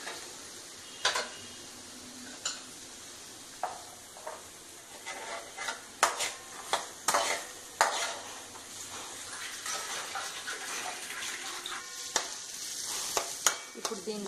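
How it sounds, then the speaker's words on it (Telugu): Chopped onions sauté in a pan while being made into chilli idly, giving a steady low sizzle broken by sharp scraping stir strokes and utensil clicks, close and fairly quiet, with no talking. "ఆనియన్స్ కొంచెం 5 మినిట్స్ వేగనిద్దాం."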